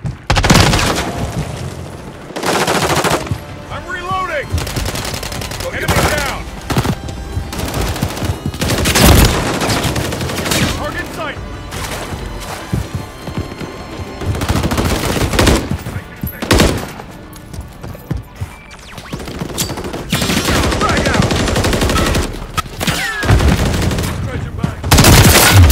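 Gunfire in the video game Modern Warfare III, loud repeated bursts of automatic rifle fire and booming shots in irregular clusters over a long stretch, with brief pauses between volleys.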